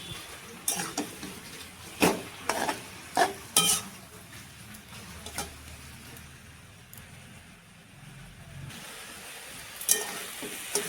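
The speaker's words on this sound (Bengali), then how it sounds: "এখন শাকটা ঢালবো" Salted, squeezed bottle gourd greens are tipped into a hot pan and stir-fried, sharp scrapes and clinks of the spatula against the pan over a low sizzle, heard alone without talk.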